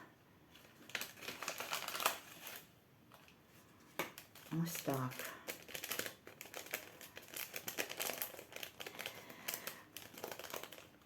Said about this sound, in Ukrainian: відкривати пакет, що нам там виробник поставив.